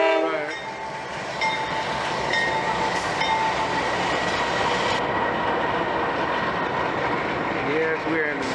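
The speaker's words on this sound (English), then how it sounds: "That is the big train here" A big freight train rolls past in Quitman, Georgia, loud and close, with a blaring horn early on, then steady heavy rumbling and clatter of rail cars throughout, with voices talking over it.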